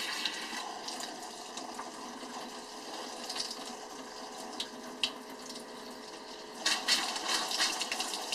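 Cold water runs from an RV sink tap during winterizing, a steady broadband hiss and spatter that holds for the whole stretch, with a few louder splashy surges toward the end and no talking.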